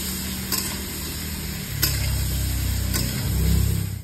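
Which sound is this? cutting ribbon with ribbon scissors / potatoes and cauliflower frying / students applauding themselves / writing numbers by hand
potatoes and cauliflower frying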